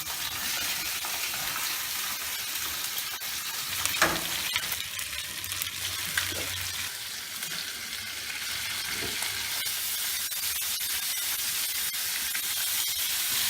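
Salmon frying skin-side down in extra oil crackles with a constant close hiss and sputter, with a few faint clinks and knocks from the pan along the way.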